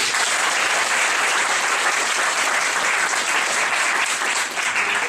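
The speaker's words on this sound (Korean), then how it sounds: "우리 중일 친구들 다시 한번 환영한다는 의미로 큰 박수" A church congregation applauds to welcome friends, a loud, dense, sustained clapping that fills the room evenly from start to finish without talking.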